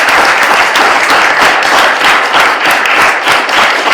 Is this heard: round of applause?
yes